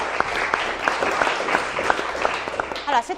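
Audience applause for a singer on a quiz show semifinal, scattered distinct claps in a loose rhythm, with a voice briefly speaking near the end.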